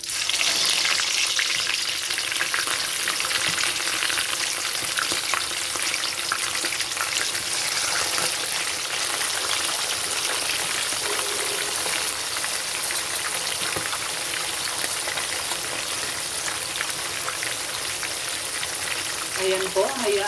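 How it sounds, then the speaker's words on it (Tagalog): Tilapia fries in hot oil, a loud, steady, rain-like sizzle that carries on evenly and close up for about twenty seconds without speech. "mainit na po ang ating mantika, kaya pwede na nating ilagay ang isda."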